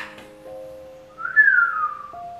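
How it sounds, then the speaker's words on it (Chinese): A person whistles alone, close by: a short held note, then a louder rising-and-falling phrase, ending on a steady lower tone. "你再吹口哨吧。"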